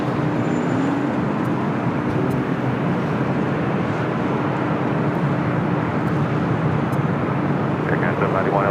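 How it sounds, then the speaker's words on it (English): A Sun Country Airlines Boeing 737-800 at LAX makes a continuous jet roar with a faint engine whine running through it, loud and steady throughout, with traffic-like rumble beneath. "Sun Country Airlines 737-800, the older livery."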